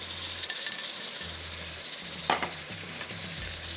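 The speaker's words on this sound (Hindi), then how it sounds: "ये डाल दीजिए हरी प्याज," Green onions frying in about two tablespoons of hot oil along with chopped green chillies: a steady broadband sizzle with a spoon stirring through it and a sharp clatter partway.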